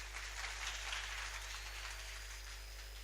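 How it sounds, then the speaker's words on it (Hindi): Steady, quiet applause from an audience honoring a participant named Sachin at a talk, an even patter of clapping with a low background hum throughout. "तालियां बजाइए सचिन के लिए।"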